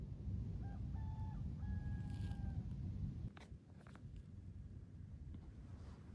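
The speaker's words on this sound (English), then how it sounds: "it is about 3:30 in the morning, and there is a rooster behind me." At about 3:30 in the morning in Oman, a rooster crows somewhere behind, a moderately faint drawn-out call over steady night noise and a low rumble.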